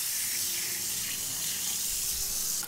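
Beef brisket is rinsed with flour under a running tap, a steady, continuous hiss of water splashing into a sink, close and even throughout, with no speech.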